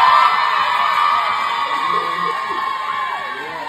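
A club crowd at a talent show cheers and shouts loudly, with whoops and high-pitched yells rising over a dense wash of noise that eases slightly toward the end.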